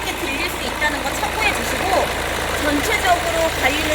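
A diesel Kia K3 1.6 sedan idles steadily with its engine bay open, a low continuous rumble heard up close beneath someone talking.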